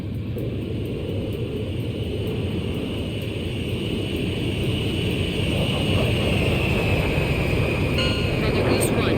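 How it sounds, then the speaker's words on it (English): A transport plane comes in for an emergency landing in the video game Ace Combat 5, with a steady, dense engine roar and rumble that holds loud and constant, plus faint high tones above it. "The transport plane is ready for an emergency landing."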